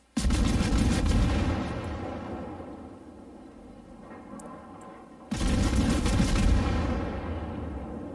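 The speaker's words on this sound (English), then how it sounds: "we're going to just shoot at him" Heavy naval guns aboard the cruiser Alexander Nevsky firing on an enemy ship in World of Warships, two booming salvos several seconds apart, each a loud blast followed by a long rumbling decay, with no voices.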